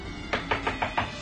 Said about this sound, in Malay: dia mengetuk pintu rumah neneknya.